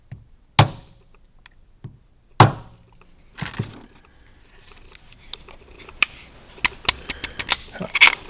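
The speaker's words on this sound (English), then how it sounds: "Take a punch and start the pins." A metal punch taps trigger pins out of an XDM pistol, sharp close clicks and knocks, a couple of spaced strikes then a quicker run of small taps.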